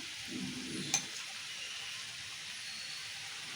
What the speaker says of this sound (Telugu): ఇట్లా నూనెలో మంచిగా ఇట్లా కలుపుకోవాలి